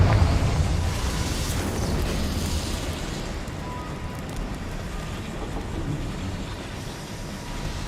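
Confringo fire spell explosion in Hogwarts Legacy, a loud booming burst at the start that settles into a dense, rumbling roar lingering steadily for several seconds without speech.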